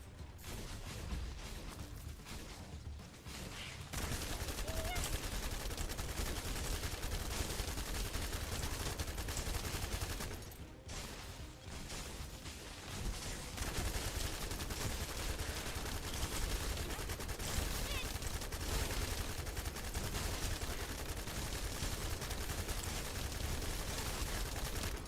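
Sustained automatic gunfire in The First Descendant, a looter-shooter game, with dense continuous bursts broken by a short lull midway before the shooting picks up again.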